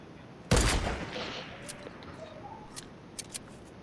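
Burst of gunfire from opposing players in a multiplayer shooter video game, one loud crackling volley followed by a few fainter scattered shots, with no voices over it.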